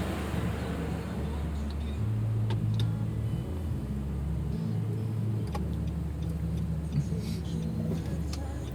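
A car rolls slowly into the parking lot of Alabang market, its low engine rumble steady with occasional shifts in pitch, while people talk faintly inside the vehicle.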